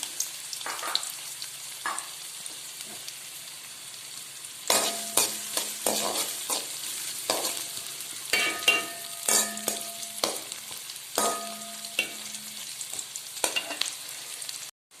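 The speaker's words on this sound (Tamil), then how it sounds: "சோம்பு இந்த மாதிரி பொன்னிறமாக பொரிஞ்சதுக்கப்புறம் ஆனியன் சேர்க்குறேன்." Fennel seeds and onion frying in oil for a sardine curry, a steady close sizzle with repeated spoon scrapes and clatters against the pan, stirring growing busier midway, no talk.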